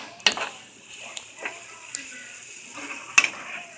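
Hamburger Helper mixture stirred in a pan, with a spoon scraping and clinking against the metal in scattered sharp taps over a soft background sizzle.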